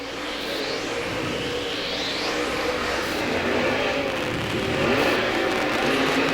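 Race car engines roar and rev continuously during a dirt oval heat race, a loud, dense wash of engine noise that swells and passes as cars circle the track, with no voices.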